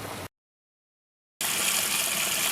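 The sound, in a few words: blanched cabbage rinsed under cold water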